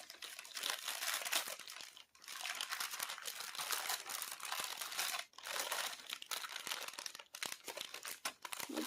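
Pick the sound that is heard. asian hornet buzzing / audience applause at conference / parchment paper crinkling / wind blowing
parchment paper crinkling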